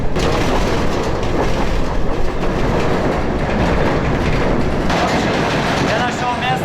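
A freight train wagon rolls along the rails across Russia in a steady, loud, continuous rumble with faint rhythmic clatter, heard close from inside the car.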